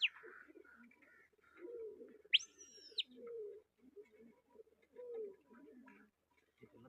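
Soft pigeon coos and a brief chirpy call sound over someone talking nearby, with low murmuring throughout.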